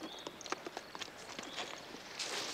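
Horse hooves clip-clopping at a steady walking pace, a series of faint sharp knocks at a moderate distance over quiet outdoor background noise.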